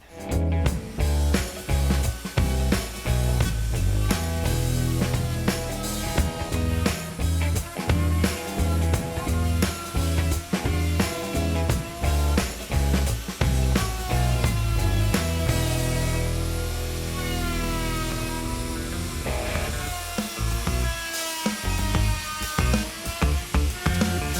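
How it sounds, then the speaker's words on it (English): A loud, continuous power-tool whine with rough broadband grinding, steady throughout with brief dips, as a router with a bottom-bearing flush trim bit trims a teardrop camper panel. "Flush trim bit. Bottom bearing flush trim bit."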